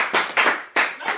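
A congregation claps loudly at a worship service, in bursts of rapid hand claps with short pauses between them, close and without talk.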